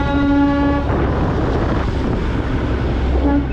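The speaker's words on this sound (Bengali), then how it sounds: "Toy train. কত সুন্দর লাগে।" Darjeeling toy train running through the hills, a steady loud rumble with sustained horn-like tones sounding at the start and again briefly at the end.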